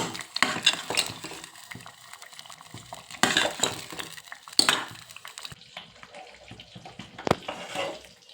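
Pav bhaji masala being stirred into gravy in a pan, with bursts of wet scraping and clatter coming in irregular strokes, separated by quieter pauses, close by.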